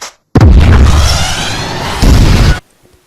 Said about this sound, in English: But what about a bigger explosion?